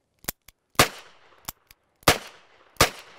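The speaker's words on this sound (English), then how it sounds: "slowly but steadily squeeze the rounds off" Handgun shots ring out during defensive shooting training on a farm, a sharp close crack followed by several more spaced unevenly with short reverberant tails, plus a few fainter clicks and pops in between.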